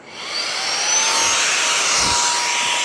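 A multi-purpose vacuum cleaner that doubles as an air blower runs steadily, a loud, constant whooshing roar that holds throughout with no talking.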